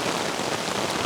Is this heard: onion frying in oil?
no